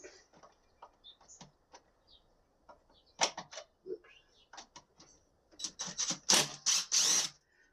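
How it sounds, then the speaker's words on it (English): Screws being backed out of the side of a device: scattered small metallic ticks and ratcheting clicks at close range, sparse at first, then bunching into louder rasping bursts near the end. "I'll start there at the bottom, removing some screws, see if they'll come out."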